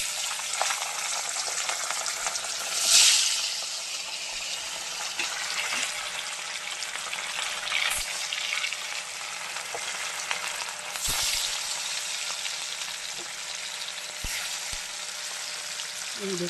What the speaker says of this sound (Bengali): ভেটকি মাছ একে একে তেলের মধ্যে আমি ছেড়ে দেবো